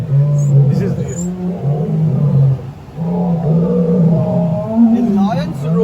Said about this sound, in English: A lion's roar can be heard up to 5 to 8 kilometers away.